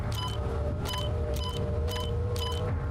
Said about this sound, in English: It sounds like the McDonald's beeping sound.